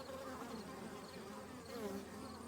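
A hive full of bees, many carrying pollen, hums with a thick continuous buzz, nearby and fairly quiet, with single bees swelling briefly louder as they pass.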